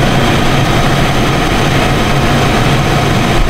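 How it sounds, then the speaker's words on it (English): Car engine running loud and close in a steady rumble, held at slightly raised revs without clear peaks, a continuous droning roar with no talk. "Let me rev it up a little bit here."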